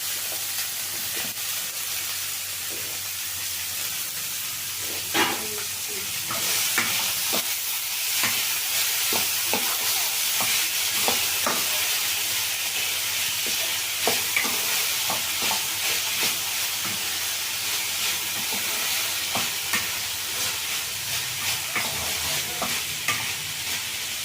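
Cooked cowpea beans with onions fry in a pan, giving a steady sizzle under repeated scraping and stirring strokes that come at an irregular pace, close and alone.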